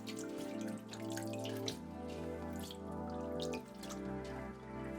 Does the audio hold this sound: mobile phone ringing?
no